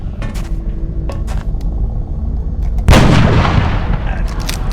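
Heavy gunfire in a first-person shooter game, a sustained rumbling barrage with scattered single shots, then a loud close sniper rifle blast that booms out and rolls away into a long echoing tail.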